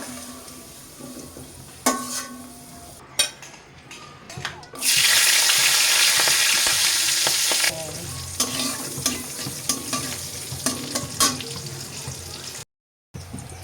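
Potato bhaji frying in a pan, a loud sizzle that swells suddenly for a few seconds and then settles, with stirring clatter, running water and voices under it.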